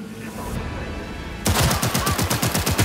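Rapid automatic gunfire in the video game Cyberpunk 2077, a loud, fast-rhythm burst of repeated shots that starts abruptly after a brief lull and continues steadily to the end.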